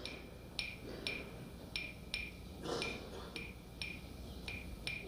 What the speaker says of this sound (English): that well-known dry little sound you get from hitting two sticks together, what the Cubans call claves